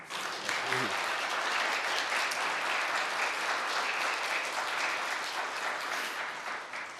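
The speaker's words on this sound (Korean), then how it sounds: "정창교 집사님은 박수를 한번 쳐야 될 것 같습니다." Sustained applause from a church congregation during a Sunday morning service, steady and fairly loud throughout, with a brief voice near the start.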